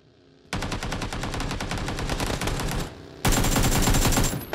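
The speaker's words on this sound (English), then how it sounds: "They're still, they're still shooting at the side of my house for some reason" Rapid video-game gunfire strikes the side of a house in two loud, sustained bursts of dense impacts, separated by a short gap, with no talking.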